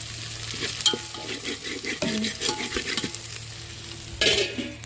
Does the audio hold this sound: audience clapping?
no